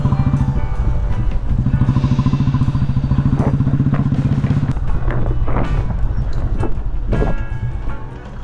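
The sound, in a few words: motorcycle riding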